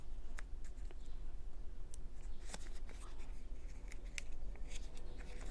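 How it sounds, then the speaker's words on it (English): Paper backing peeled off small wood pieces for a quilted ladybug frame, a series of brief crackling rips and scratchy tearing sounds, close up and fairly quiet against a steady low background hum. "So you're going to peel off the paper backing."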